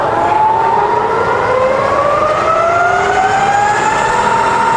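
A Bridgeport milling machine motor starts and runs at low speed with a loud steady whine that climbs gradually in pitch, close and continuous with no talking.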